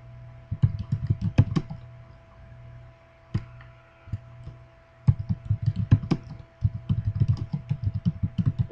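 Computer keyboard keys clatter in quick bursts of typing, separated by brief pauses and single isolated clicks, close and clear with no talking.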